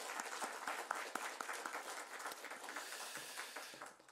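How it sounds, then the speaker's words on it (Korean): A church congregation claps together, a dense, even patter of many hands that holds steady at a moderate distance and then tapers at the end. "우리 하나님께 우리 감사의 박수, 기쁨의 박수, 영광의 박수 올려드립니다."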